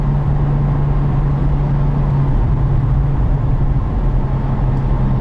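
A 2012 Porsche 911 Turbo S Cabriolet engine drones loudly and steadily from start to finish, a dense low rumble with a sustained hum beneath it and no voices.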